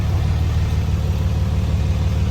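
Dodge Cummins diesel truck engine fitted with a BoOST CTS3 Edge tuner idles steadily, a deep continuous low rumble with even pulsing throughout, no talk.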